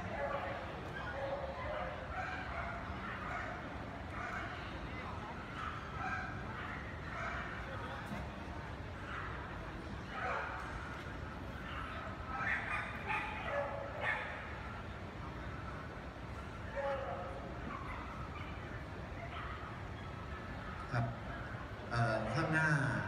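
Dogs at an FCI dog show bark and yip intermittently across a large show ground. The barking sits under near-constant public-address announcements and crowd murmur.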